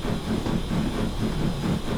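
L&YR Class 5 steam locomotive in a video game, a steady low rumbling chug with rhythmic pulsing, close and fairly loud, heard alone.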